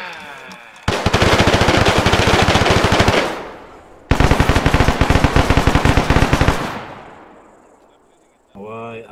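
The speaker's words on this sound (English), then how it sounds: "Why are they shooting?" Gunfire in a video game military side-op with Belgian paratroopers: two long, loud bursts of rapid automatic fire, each lasting a few seconds, separated by a brief gap. A voice is heard briefly at the end.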